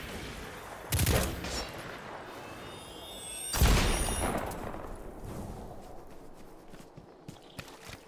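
A Dead Orbit pulse rifle in the video game Destiny 2, fired in two short, sharp bursts a few seconds apart, followed by fainter clattering and ambient game noise.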